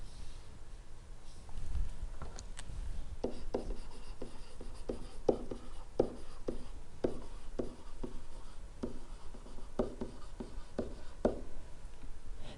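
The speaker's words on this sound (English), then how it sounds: "let me write that a little nicer." Pen or marker writing out a math problem on a surface, a quiet run of short regular scratching strokes in a steady rhythm, close and faint, without talk.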